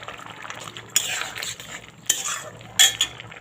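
Fried lentil fritters stirred into a sweetened vegetarian papaya and potato curry in a pot, with three distinct bursts of scraping and clattering from the spoon against the pan over a quiet simmering background.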